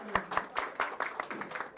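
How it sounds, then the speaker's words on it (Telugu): Audience at a live travel-company lucky draw event claps in a quick, fairly close run of about a dozen distinct claps with little other sound. "అందరూ గట్టిగా చప్పట్లు కొట్టి"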